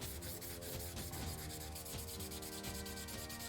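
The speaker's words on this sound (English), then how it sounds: "Once the sanding was done, I got out my spray booth" Continuous close rubbing of sandpaper on a sculpted prop tooth, a steady scratchy rasp with rhythmic back-and-forth strokes, fairly quiet and unbroken.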